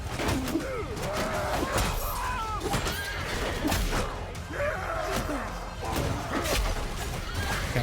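A horse neighs repeatedly amid a loud, dense medieval battle in the video game Bannerlord, with whinnies rising over clashing, crashing combat noise.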